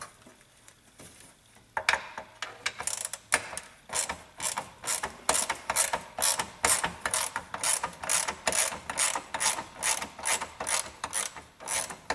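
Ratchet wrench loosening bolts on a John Deere tractor hood bracket, a close, rapid series of rhythmic clicking bursts that repeats steadily after a quiet start.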